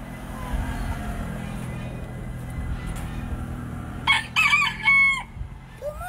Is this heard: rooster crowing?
yes